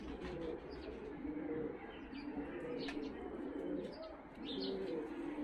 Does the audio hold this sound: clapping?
no